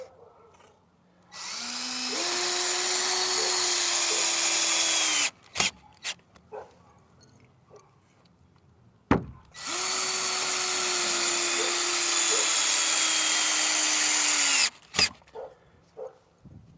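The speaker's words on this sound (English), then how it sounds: "Let me put a couple more screws in" A cordless power drill drives screws into a wooden fence, two long whining bursts of several seconds each, rising slightly in pitch, with clunks and knocks between and after them, close and loud.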